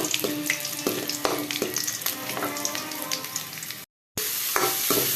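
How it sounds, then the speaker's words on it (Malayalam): Dried red chillies sauté in hot oil with a loud, continuous close-up sizzle and crackle and occasional stirring scrapes. A brief moment of silence breaks the frying near the end. "പിന്നെ വറ്റൽമുളക് രണ്ടും കൂടെ ഒന്ന് ജസ്റ്റ് വഴറ്റിയെടുക്കാം ഒത്തിരി മൂക്കരുത് അത്യാവശ്യം ഒന്ന് വഴറ്റിയെടുക്കുക"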